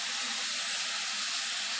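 Curry leaves sizzle in a hot pan with garlic, ginger and green chili paste, a steady bright hiss close up with no break.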